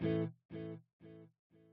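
Electric guitar with delay and reverb processed in parallel, playing four evenly spaced plucked notes. Each note rings and fades before the next, and the notes grow gradually quieter.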